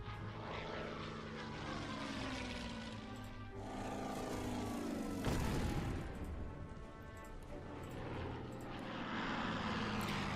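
Tactical bomber in a World War II strategy game, its steady propeller engine drone sustained and loud throughout, swelling in the middle with a brief rumbling burst.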